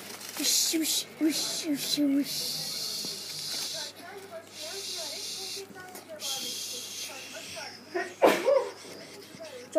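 A single sharp sneeze bursts out near the end, preceded by breathy, hissing sounds and murmured vocalizing.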